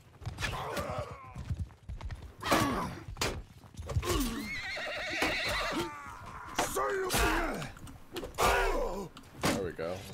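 A horse whinnies repeatedly after being struck during a Mount and Blade II: Bannerlord online multiplayer skirmish, loud neighs mixed with clashing combat noise and a player talking.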